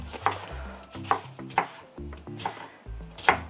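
Knife chopping cucumber into small dice on a board, a series of crisp, close, evenly spaced cuts with low woody knocks, no talk.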